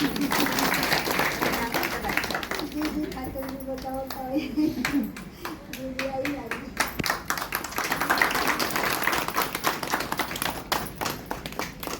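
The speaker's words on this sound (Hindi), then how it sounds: "एक बार तो अपने खातरे ताली बजाओ" An audience at a Teej festival gathering claps in sharp, uneven bursts, with talking and a voice mixed in among the claps.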